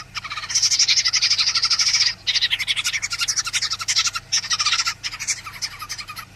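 A rescued baby bird, taken in during a rainstorm, calls in loud, rapid bursts of high, shrill chirping, close by and nearly continuous with a few short pauses, over a low steady background hum.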